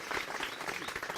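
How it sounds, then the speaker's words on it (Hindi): Applause breaks out for a farmer honored with three awards in a year at a village chaupal gathering; dense, continuous crowd clapping fills the whole moment. "तालियां भाई"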